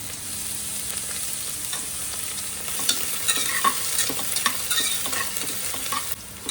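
Cashews, raisins, onion and garlic fry in a pan for onion garlic rice, a steady sizzle with a run of scraping stirs and clinks getting busier toward the end, no voices.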